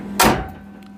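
A Skoda car door shuts once with a single close, solid thud that fades quickly, no voices.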